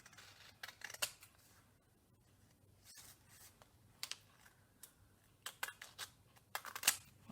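Scissors cut through paper pages in a series of short, close snips and crisp rustles, irregularly spaced and growing busier toward the end, with no voices.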